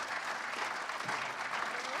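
An audience at a Year 12 cabaret show applauds, a brief wash of many hands clapping at moderate distance, steady and even throughout.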